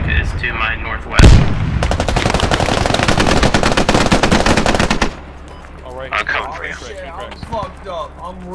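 Loud sustained automatic gunfire from a squad-based military shooter game, a dense burst of rapid shots lasting several seconds after a sharp blast, with players talking over it and continuing afterward.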